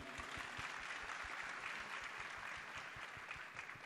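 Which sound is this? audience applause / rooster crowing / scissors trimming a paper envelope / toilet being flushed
audience applause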